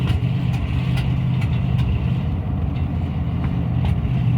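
Ford F600 truck engine running rough at around 30 mph, a steady low drone with uneven surges and faint clicks, heard from inside the cab with no talk.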